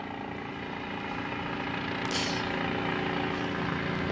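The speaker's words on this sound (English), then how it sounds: "We've got our helicopter up." A helicopter flying over a convoy near the vehicle assembly building at a NASA launch site gives a steady, distant rotor drone with low engine hum, with a brief higher whoosh midway.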